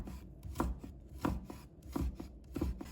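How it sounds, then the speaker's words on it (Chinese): A knife chops peeled ginger into shreds on a board in quick regular strokes, about two to three crisp close taps per second, fairly quiet with no speech. "再切成丝，"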